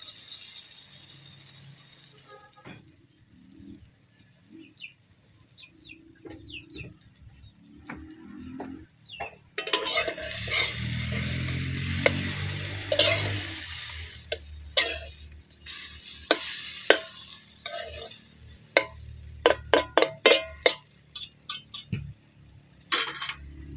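A torta omelette being scrambled in a pan, with a soft sizzle and a spatula clicking and scraping against the pan in quick irregular taps, loudest toward the end, with no talking.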